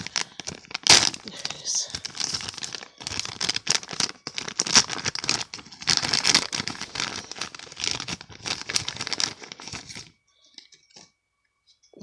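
Plastic packaging around a collectible toy thylacine crinkles and tears in repeated bursts, close and busy, with a few brief spoken words before the sound stops near the end.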